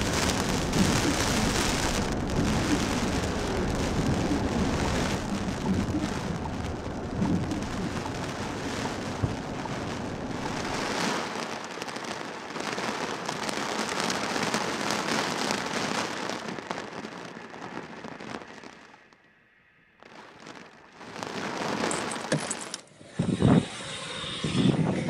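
Steady heavy rain pours outdoors in Glencoe, Scotland, a dense close hiss that runs loud for most of the stretch, drops away briefly near the end, then returns in patches.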